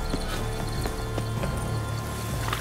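Horse hooves clip-clop in The Witcher 3: Blood and Wine, a run of irregular, fairly close hoofbeats over a steady background ambience.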